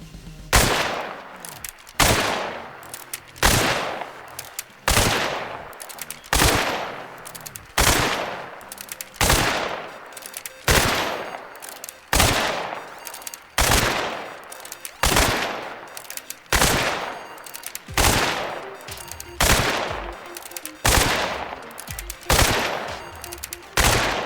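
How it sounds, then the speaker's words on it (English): A chain pistol in the video game Hunt Showdown is fired repeatedly with and without fanning, giving loud, sharp gunshots at a steady rhythm of about one per second across the whole stretch, each with a decaying tail. "Let's compare how long it takes to empty all shots from a chain pistol with and without fanning."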